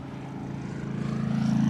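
A DHL Boeing 777 cargo aircraft at East Midlands Airport gives off a steady low engine drone that swells gradually in loudness, heard from a distance with no talking.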